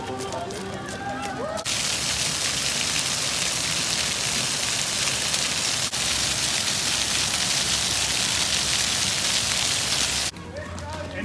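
Dense hiss of steady rain pouring down at night beside the Bosphorus for several seconds, between brief stretches of a voice talking.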